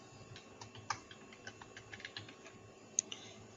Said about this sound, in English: So the next code you are going to type is cd, then you type pictures.